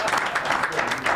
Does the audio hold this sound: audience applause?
yes